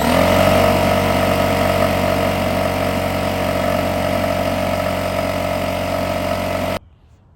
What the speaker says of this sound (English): now let's turn on our compressor